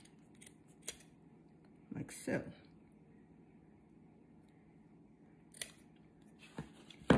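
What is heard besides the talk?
scissors cutting string ends on a trussed chicken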